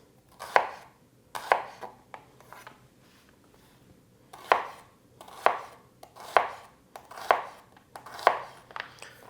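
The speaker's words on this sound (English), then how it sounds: "next you just want to take a knife and cut them into some rough slices" A knife slices shallots into rough pieces on a cutting board, crisp separate chops in uneven bursts with short pauses between, close and clear, no speech.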